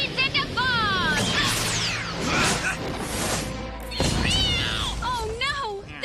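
An animated kitty cat meowing and yowling in rising and falling cries, several distinct meows mixed with crashes and whooshes, heard alongside excited cartoon voices.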